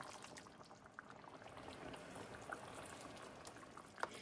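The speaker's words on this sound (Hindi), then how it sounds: "गोश्त को पकाने के लिए इसमें आधा गिलास पानी डाल लेते हैं गरम।" Half a glass of hot water poured into mutton cooking in a pot for palak gosht, a faint continuous splashing and bubbling with a couple of small clinks, no voices.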